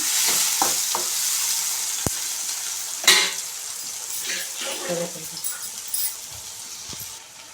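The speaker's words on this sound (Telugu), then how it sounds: "అలాగే ఒకసారి కలుపుకోవాలి" Semiya upma being stirred in a pan, with scraping spoon strokes, a sharp clink and a louder scrape midway over a steady low sizzle.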